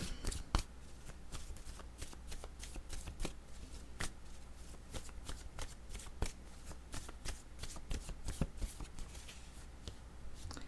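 Oracle cards are shuffled by hand nearby: a steady, crisp riffling and flicking of card edges that continues without a break.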